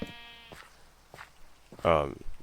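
Sheep bleat in a video game, a short wavering bleat at the start and a louder one near the end, with someone speaking softly in between.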